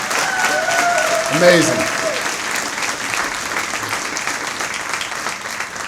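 A banquet crowd gives a big, sustained round of applause for a university athletics Hall of Fame class, dense and loud throughout, with a voice briefly speaking over the clapping early on.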